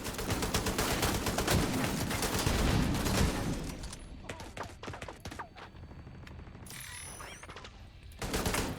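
Video game turret gunfire, dense rapid automatic bursts for about three seconds, then scattered shots and impacts, with a final burst resuming at the end.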